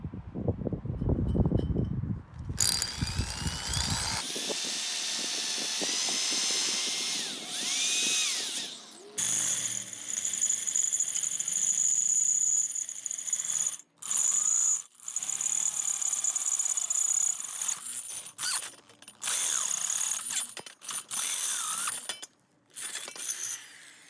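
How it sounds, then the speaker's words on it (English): A power drill bores a hole for an RV slide-out motor replacement in whining bursts separated by brief silences, with clicking and ratcheting mechanical noises mixed in at close range. "then we'll drill the second"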